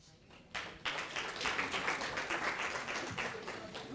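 Audience applause after a British Sign Language talk, starting faint and then swelling into steady, fairly loud clapping from a crowd that keeps going to the end.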